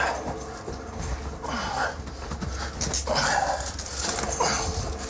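A dog whimpering and whining in a jail setting, with soft growls and yips close by, a continuous moderately loud run of pained vocal sounds over a low background rumble.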